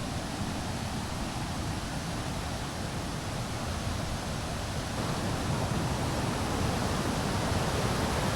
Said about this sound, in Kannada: ಬಂಡಾಜೆ ಫಾಲ್ಸ್ಗೆ ಫೈನಲಿ ಬಂದ್ವಿ ಅನ್ಸುತ್ತೆ